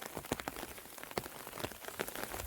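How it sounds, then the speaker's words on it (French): Heavy rain pours down steadily in a forest during October, a dense, continuous patter of drops striking leaves and ground with scattered louder splashes close by. "Donc il pleut toujours très fort."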